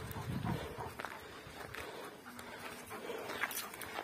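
Kangal dogs on leashes walk through a village, their faint, irregular footfalls and shuffling mixed with soft breathing and low background noise.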